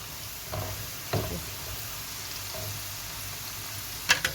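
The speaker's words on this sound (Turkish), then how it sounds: "Bakın arkadaşlar patatesimiz kızara dursun." Potatoes deep frying in hot oil for a Hatay-style mixed fried dish, giving a steady low sizzle with a few soft knocks and brief clatters near the end, fairly quiet and without talk.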